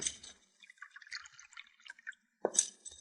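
Water trickles and drips into a glass as a radio-drama sound effect, quiet and brief, with a short louder splash near the end and no voices.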